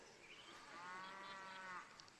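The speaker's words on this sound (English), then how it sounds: "It's the cattle." Cattle mooing, a single long, loud bellow close by that swells and holds for over a second, with no voices over it.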